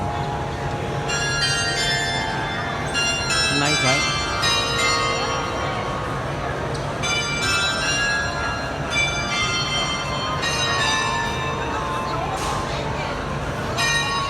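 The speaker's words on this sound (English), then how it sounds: "The bell or something, a church or something." A church bell near Lau Pa Sat in Singapore rings continuously in repeated, resonant chimes over dense city ambience and crowd noise.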